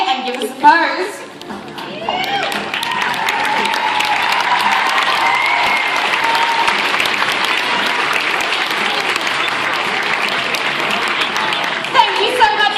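A convention audience applauds and cheers a cosplayer on stage, the clapping swelling and holding loud and steady after a brief spoken moment at the start.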